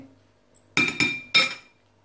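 Dishes clink as rice salad is served onto a plate. Three sharp, bright clinks of dishware come close together in a quiet room, with no talking.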